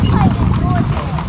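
A horse's hooves clip-clop at a walk amid an Indiana thunderstorm, near and fairly loud, with people talking over them.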